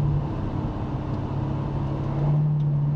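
A Corvette C7 on the Spring Mountain track braking and downshifting to third, its engine a steady, fairly loud drone that holds throughout without a break.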